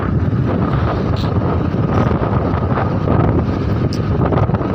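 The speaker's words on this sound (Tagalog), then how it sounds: "pag malakas yung hangin, malakas yung alon" Strong wind roars continuously across the microphone at a beach with strong waves, a dense, loud rushing with no letup and no voices.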